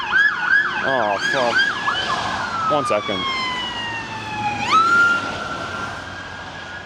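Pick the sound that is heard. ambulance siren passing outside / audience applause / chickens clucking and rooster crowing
ambulance siren passing outside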